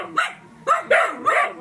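A dog barks four times in quick, uneven succession, close and fairly loud, with short yelping barks outdoors.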